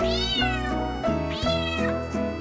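Two long, rising-and-falling cat meows, loud and close and one after the other, sound in a children's nursery rhyme about a pet cat.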